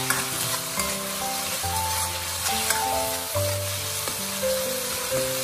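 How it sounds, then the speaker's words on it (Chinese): Minced pork and doubanjiang being stir-fried in a wok, a steady loud sizzle with the scrape and clatter of a spatula tossing the meat, no talking. "继续翻炒，将豆瓣酱炒香，炒出红油来"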